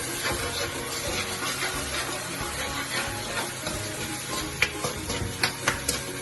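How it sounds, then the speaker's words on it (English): Garlic, a heaped tablespoon, sizzles in a hot pan while a lamb ragu is being cooked, giving a steady close frying hiss with light stirring clicks and a few sharp taps near the end. "I'm going to put in a good heaped tablespoon of garlic"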